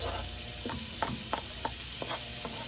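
Onions sautéing in melted butter in a pan give off a steady close sizzle, with a few soft stirring scrapes at regular intervals.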